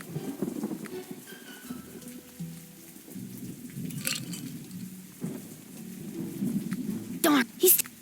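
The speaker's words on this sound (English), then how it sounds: "The lightning struck direct." Rain and rumbling thunder in the pirate adventure game Cleo - a pirate's tale, a steady wash of rain with low rolling rumbles and a couple of sharp cracks near the end, under game sounds and a voice.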